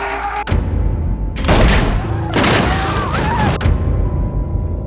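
Gunfire in a film scene set in a cabin as two people struggle over a gun, with several heavy booming shots and thuds in quick succession, loud and close, separated by short gaps.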